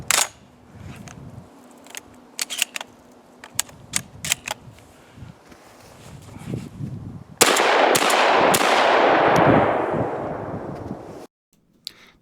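A Stoeger M3500 semi-automatic shotgun fires a rapid burst of sharp, loud shots in quick succession, each crack close and percussive, followed by a long ringing roar and then a sudden drop to near silence.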